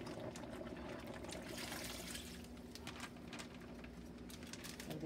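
Water pours from a plastic bag into a cooking pot during oxtail stew preparation, a soft continuous trickle and splash, faint and steady with no one talking.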